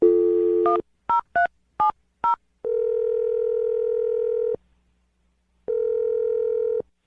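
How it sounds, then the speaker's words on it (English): A short run of touch-tone dialing beeps, then a steady dial-like tone that stops, a pause, and another tone; clear, electronic, no voices. "I'm going to dial the phone number right now."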